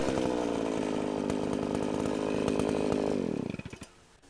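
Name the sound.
power tool, likely a chainsaw, running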